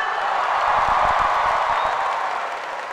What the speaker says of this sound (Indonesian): Kita kasih tepuk tangan dong untuk Adera.